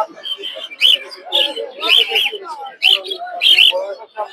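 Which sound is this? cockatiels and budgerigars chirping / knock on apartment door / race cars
cockatiels and budgerigars chirping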